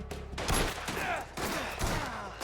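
Rapid bursts of pistol gunfire in the video game Mafia: The Old Country crack out in quick succession, loud and close, with a few brief pauses between volleys.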